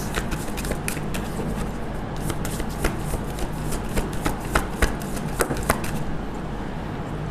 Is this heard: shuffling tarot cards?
yes